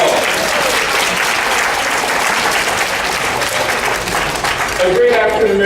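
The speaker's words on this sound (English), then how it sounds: "Give yourselves a wonderful round of applause." An audience at the opening of a conference on minority aging bursts into loud, sustained applause, a dense wash of clapping that carries on for several seconds before tapering near the end.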